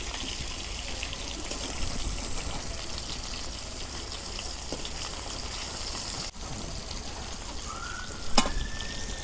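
Fish fries in oil with a steady, close, low sizzle and crackle that continues throughout, broken near the end by a few light knocks and a brief clink.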